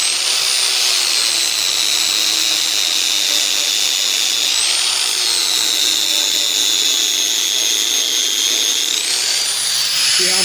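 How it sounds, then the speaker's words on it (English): A grinder shapes a point on a metal trapping drag, a loud, continuous high-pitched whine with pitch shifts as the tool bears into the steel, close and alone. "we're going to start grinding a flat on the top side down and a flat on the bottom side that way"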